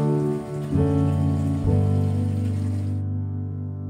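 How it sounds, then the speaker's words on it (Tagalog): Rain falls steadily and closely on a surface, a dense continuous patter over a low tonal hum that fades partway through. "Ayan po, umuulan na."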